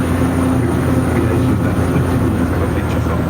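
A studio tour tram rolls along the Skull Island attraction, giving a steady, loud rumbling ride noise with a constant hum throughout and no clear breaks.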